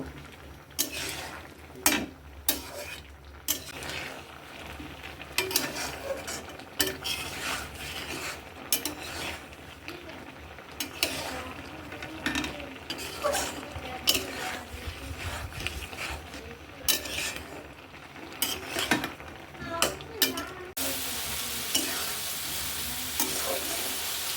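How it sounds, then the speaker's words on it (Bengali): Pumpkin and vegetable curry stir-fried in a pan with no oil, a steady dry sizzle broken by repeated scraping and clinking of a spatula against the pan, close up, with no one talking. "এবার কিন্তু কোনো তেল ইউজ করিনি আমি এটাকে আমি কষিয়ে নেব"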